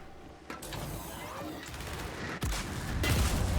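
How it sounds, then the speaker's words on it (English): Dense bursts of automatic gunfire and explosive blasts from the Gears of War 5 video game, a loud continuous fusillade with sharp impacts near the middle and end. "It's opening fire!"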